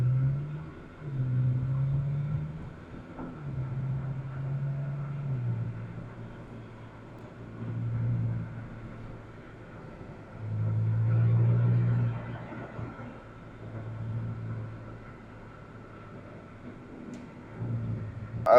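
A McLaren GT with a Stage 1 multi-map tune cruises gently in its quietest map with the exhaust flaps closed. Its engine gives a soft, low rumble that swells and eases several times with throttle, and no one speaks.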